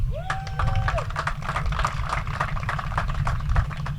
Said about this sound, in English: give yourselves a round of applause for showing up today.